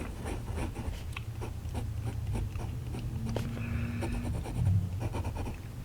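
An extra fine fountain pen nib scratches across paper in a steady, close run of writing strokes, a soft dry scrape with small rhythmic ticks and lifts, alone with no talking.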